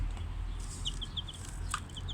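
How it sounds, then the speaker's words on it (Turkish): Several short, high chirps from chicks scattered over a low steady background hum, with a louder peep near the end. "Ee, şimdi size civcivlerimizi göstereyim."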